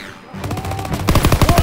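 Rapid automatic gunfire from the Call of Duty WWII video game builds into a loud, close burst of rattling shots, with a harsher run of rounds toward the end.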